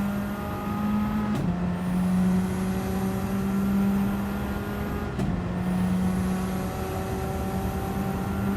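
A car in a racing video game driving steadily with a sustained droning engine tone, two quick gear shifts marked by brief dips and rising pitch, loud and continuous with no speech.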